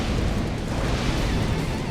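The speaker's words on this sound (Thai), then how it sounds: "กด C ระเบิด" A creature's explosion attack in ARK Survival Evolved comes across as a dense, sustained rumbling blast that fills the whole short moment at a loud, even level, with no voice over it.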